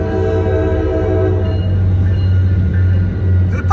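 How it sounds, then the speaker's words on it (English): A passenger train rumbles past at a level crossing with a loud steady low drone and metallic rolling over the full few seconds, close by and continuous with no talk. "We got stopped by a train."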